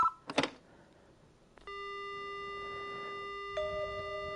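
In the video game Spirit Hunter: Death Mark, a couple of brief clicks and a short rattle as a payphone is picked up, then a steady electronic dial tone hums alone, shifting to a slightly different tone near the end.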